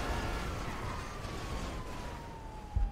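A police siren in GTA 5 RP sounds as a single long tone slowly falling in pitch, steady and moderately loud over low rumbling engine noise.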